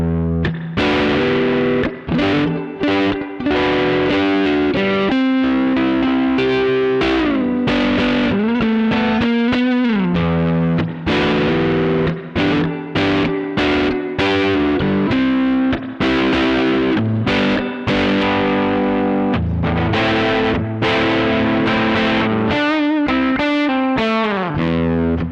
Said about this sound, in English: So you can really hear how this guitar can give you a lot of single coil options and a lot of humbucker options.